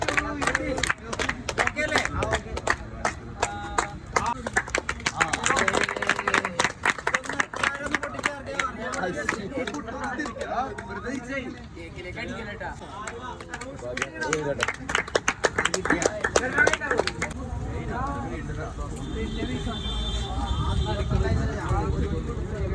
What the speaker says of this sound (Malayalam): കൈയടിക്ക് കൈയടിക്ക് കൈയടിക്ക്.